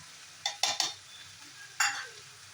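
Grated coconut frying with turmeric in a pan for avalakki chitranna, a few short scraping stirs and clinks of a spoon against the pan over a faint sizzle, close and fairly quiet.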